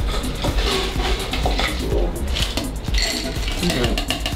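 Crushed ice is scooped into a tall glass for a Bloody Mojito, giving a dense run of clinks, crunches and rattling close by.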